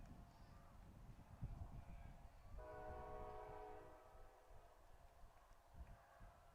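A train passes near an outdoor baseball field during a high school playoff game in Needham, its horn sounding a steady, chord-like blast for about a second and a half over rumbling rail noise and open-air ambience.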